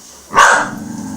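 A single loud, sharp dog bark close by, followed by a short fading rumble.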